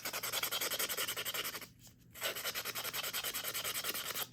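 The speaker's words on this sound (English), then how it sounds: "And then just lightly sand to take the shine off." Sandpaper lightly rubbed over a painted craft face to take off the shine, a close, soft, rhythmic scratching in quick back-and-forth strokes with a brief pause midway, no talking.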